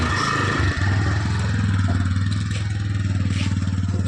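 Motorcycle engine idling close by with a steady low throbbing rumble, briefly interrupted by a clatter early on.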